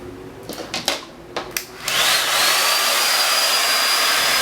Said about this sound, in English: So now that my hair is blow dried